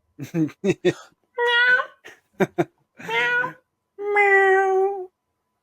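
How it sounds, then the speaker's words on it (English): A cat meows three times, drawn-out and tonal, close by, alternating with short bursts of human speech. "did you just hear my cat?"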